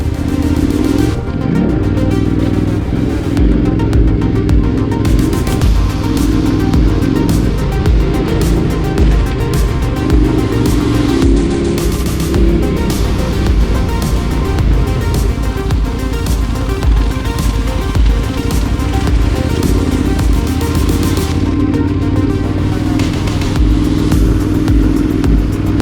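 KTM 990 Adventure motorcycles climb uphill on a dirt trail in British Columbia, engines droning loud and steady throughout with rev swells and gravel clatter, close to the microphone and with no talking.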